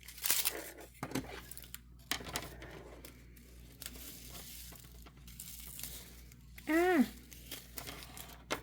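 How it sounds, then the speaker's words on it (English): Packaging of a Dollar Tree Crafter diamond painting kit being ripped open by hand, with intermittent crinkling and tearing bursts and a louder rip near the end, close up in a quiet room. "I'm just going to rip it from this end and just start on that side, and we'll just rip it down the line."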